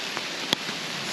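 Rain falls in an old-growth forest on a hike, a soft steady hiss of drops with a few distinct taps and one sharper drip, fairly quiet and even throughout.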